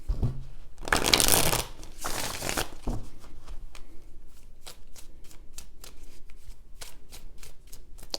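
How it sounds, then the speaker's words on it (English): Tarot cards being shuffled by hand: a loud riffling burst early on, then a long run of quick, crisp card flicks close by, with no talk. "Three shuffles."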